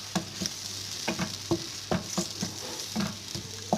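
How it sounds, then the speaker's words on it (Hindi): Onions browning in oil for a creamy chicken handi, a low sizzle broken by repeated rhythmic clicks and scrapes of a spoon stirring in the pot, close by and fairly quiet, with no voices. "बस हमने उस वक्त तक प्याज को भूनना है जब तक ऑयल ना निकल आए"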